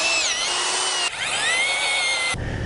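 A power drill boring a hole into the ground for a probe runs loud and close, its motor pitch rising and falling as it revs, then shifting to a rougher grinding tone near the end.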